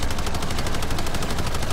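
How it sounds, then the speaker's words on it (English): Video game gunfire in an online shooter match, a loud continuous rapid burst of automatic shots with an even fast rhythm, heard on its own without talk. "I'm shooting."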